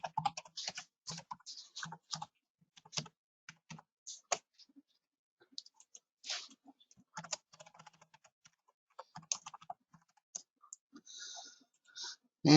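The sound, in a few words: typing username and password on computer keyboard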